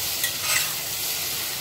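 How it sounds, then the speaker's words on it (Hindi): Vegetables with spices cooking in a pressure cooker before the pressure is applied give a steady, close sizzle and light frying crackle with a soft stirring scrape, continuous and without talk. "अब ये सब्जी सारे मसालों के साथ प्रेशर कुकर के अंदर पक रहा है"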